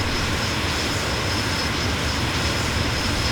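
Engines of a B-2 Spirit stealth bomber in Microsoft Flight Simulator 2020 give a steady, loud broadband roar that holds unchanged throughout, with no voices.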